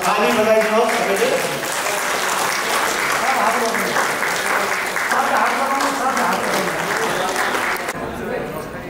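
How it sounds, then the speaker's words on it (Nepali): A crowd applauds at an Assam Rifles raising day celebration, loud sustained clapping that carries on for several seconds before fading at the end. "ल ताली बजाइदिनुहोस् सबैले।"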